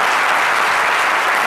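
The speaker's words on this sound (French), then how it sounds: "On va applaudir cette soeur-là" Audience applause fills the room, a steady loud wash of many hands clapping at once, continuous and even throughout.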